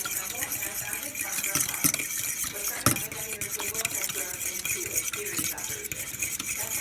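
A spoon stirs a mixture with lemon juice in a bowl, giving a continuous close scraping and swishing with small clinks against the bowl and no talk.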